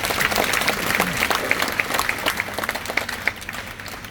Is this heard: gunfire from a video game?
no